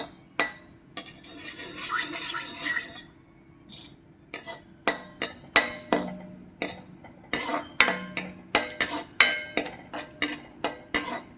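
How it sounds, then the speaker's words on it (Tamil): Cashews roasting in ghee in a pan, a spoon scraping and clinking against the metal in quick repeated strokes, with a soft sizzle beneath during the early stirring. "நெய் எடுத்து முந்திரியெல்லாம் நம்ம வறுத்து எடுத்துக்கிறோம்"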